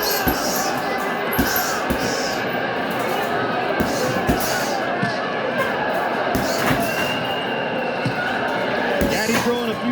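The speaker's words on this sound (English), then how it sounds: "Crowd gets back into it." Boxing arena crowd at the Micky Ward vs Arturo Gatti fight, a dense continuous roar of voices and cheering that swells steadily, with scattered sharp thuds and claps cutting through the hubbub.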